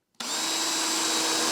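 A power drill bores through a hardwood board, the motor kicking in sharply after a brief silence and holding a steady, loud, close whine with a grinding bite as the bit cuts through.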